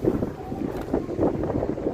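Strong wind buffets the microphone outdoors in London in rough, uneven gusts, a low roaring rumble that swells and dips throughout with no voices.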